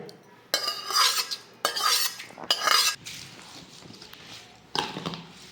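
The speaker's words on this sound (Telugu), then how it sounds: "ఈ తాలింపుని ఇట్లా ముక్కలన్నిటికీ పట్టేలా కలుపుతాం" Raw amla (gooseberry) pieces for pickle being mixed with tempering: a few loud bursts of scraping and clinking from a spoon against a bowl, separated by quieter pauses, with no voices.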